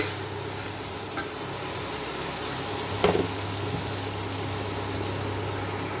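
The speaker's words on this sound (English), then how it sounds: "So this we will all fry nicely" Spiced sweet potato leaves and capsicum frying in a pan with coriander powder, a steady low sizzle with a soft scrape of stirring around the middle, close and moderately quiet, with no talking.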